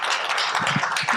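A brief burst of audience clapping, a quick, dense spatter of hands heard up close, for two guests at a panel talk about the criminal legal system.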